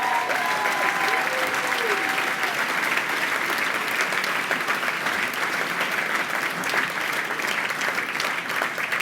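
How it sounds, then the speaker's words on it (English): Sustained, dense applause fills a gala ballroom as the audience claps steadily and loudly throughout, with a few brief vocal tones at the start. "a big round of applause"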